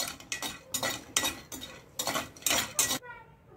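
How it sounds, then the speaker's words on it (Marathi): Whole spices with sesame, cumin and coriander roasting and crackling in a pan, with a spoon scraping and clinking in uneven bursts before the sound cuts off abruptly. "आता हे सर्व तडतडायला लागले आहे"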